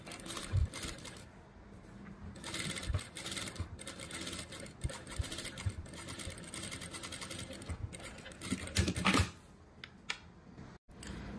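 A sewing machine runs in fast rattling bursts as it topstitches a patch pocket, the stitching close and continuous with brief pauses and a few clicks.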